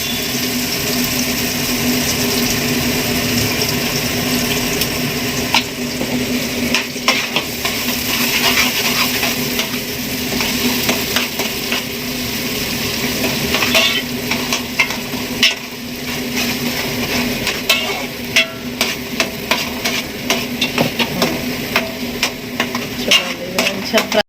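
Masala paste sizzles loudly in a hot pan for a fish curry while a spoon scrapes and stirs it in irregular strokes, with faint voices talking at times under the steady frying hiss.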